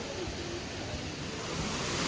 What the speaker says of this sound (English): So there is the waterfall.